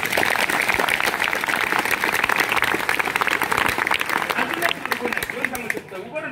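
A college audience at a motivational talk claps together in a loud, sustained burst of applause that thins out and fades near the end, with some voices mixed in.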